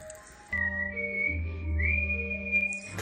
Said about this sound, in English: I was whistling away to my plants